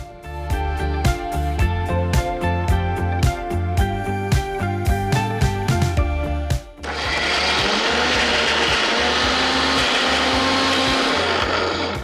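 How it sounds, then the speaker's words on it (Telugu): A mixer grinder grinds overnight-soaked soya chunks and chickpeas, first whirring in short rhythmic pulses, then running in one loud, steady, continuous roar up close. "ఫస్ట్ ఇది మిక్సీ పట్టేద్దాం."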